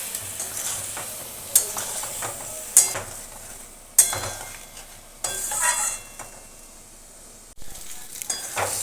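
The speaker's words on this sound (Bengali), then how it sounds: "মশলাটা খুব ভালো করে কষে নেব।" Tomato, salt and turmeric spice paste sautéing with potatoes in a pan for a vegetarian aloo phulkopi rosa: a steady close sizzle broken by several sharp scraping stirs of a spoon against the pan.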